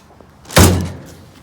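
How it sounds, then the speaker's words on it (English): The door of a 1967 Volkswagen Beetle shuts with one solid, close slam, a sharp thud that rings briefly and fades into a quiet outdoor background. "that door closes fantastically"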